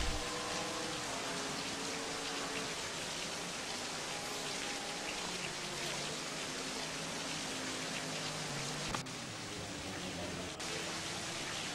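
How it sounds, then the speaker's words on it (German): Rain in the racing game rFactor during a race in Hungary sounds as a loud, constant hiss over faint tonal engine hum, with a brief thud near the end. "aber guck mal, der Regen wird immer schlimmer"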